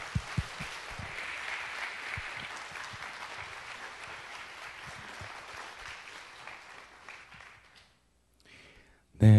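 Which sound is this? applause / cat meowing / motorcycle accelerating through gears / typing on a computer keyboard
applause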